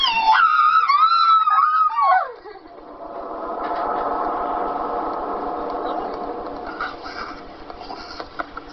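A small dog gives a warbling, wavering howl for about two seconds, close and loud, then a softer, whimpering noisy stretch trails on with faint scattered clicks.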